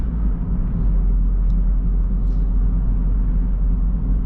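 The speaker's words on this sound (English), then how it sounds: "the wind noise coming from the convertible top" Inside a Smart Fortwo convertible driving at about 160 km/h on a German highway, a steady low road and engine rumble fills the cabin, with a constant wind roar from the soft top and no talk.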